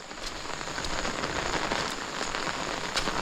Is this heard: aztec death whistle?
no